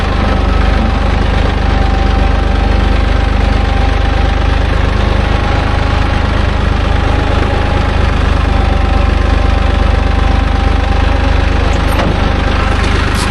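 A loud tractor engine runs steadily throughout, a low, constant mechanical rumble with a faint knocking texture and no voices.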